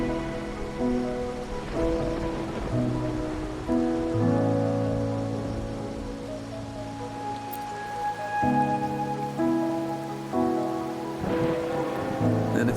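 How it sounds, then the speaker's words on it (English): Rain and thunder from the video game Wuthering Waves, a steady wash of rainfall with soft rumbles, heard beneath a sustained musical score with no voices. "Or are you simply passing the time until the rain ends?"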